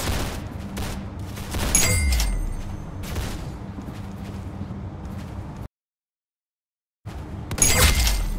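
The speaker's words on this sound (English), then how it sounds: "Good shot! You got his head!" Gunfire in the Roblox game Arsenal, several sharp shots and bursts over a busy game backdrop, cutting to silence briefly before another loud shot near the end.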